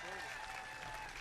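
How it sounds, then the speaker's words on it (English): Crowd at an outdoor tax day protest rally in Washington DC applauding, a steady wash of clapping held at a moderate, somewhat distant level for a brief moment. "Please give them a big round of applause, folks."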